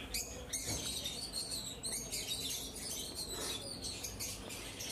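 Lovebirds in a breeding colony kept in nest pots, giving a dense, continuous chatter of high chirps and tweets close by, steady throughout with no talking.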